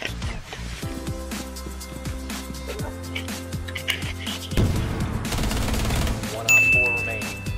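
Gunfire in the video game Rainbow Six Siege: sharp, rapid bursts of shots crack over in-game music and effects, building into denser fire midway, with a ringing ding near the end.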